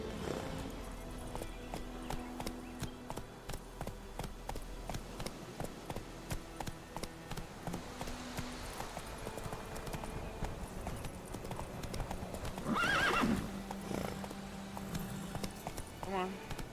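The horse Roach gallops in The Witcher 3, with quick rhythmic clip-clop hoofbeats running steadily through the stretch and a brief whinny near the end, while a person talks over the game audio.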